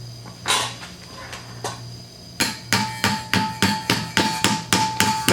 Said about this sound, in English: You can use a hammer on that and tap on the back side